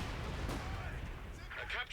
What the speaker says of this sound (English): Mine detonates